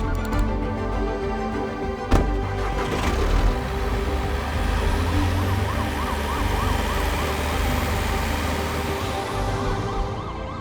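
An ambulance siren wails steadily in a rising and falling pattern over road traffic noise, loud and fairly close, with no talking.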